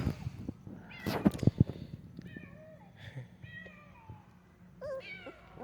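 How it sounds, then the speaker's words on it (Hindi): A cat or kitten meows repeatedly nearby in a series of short, rising cries, with scattered knocks and rustling around it. "लगता है कोई बिल्ली आई है यहाँ पे।"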